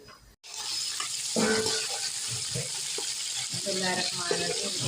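Chicken sizzles loudly and steadily in a pan for aloo gobi chicken salan, with stirring scrapes and clinks over the continuous frying, and a soft voice briefly in the background.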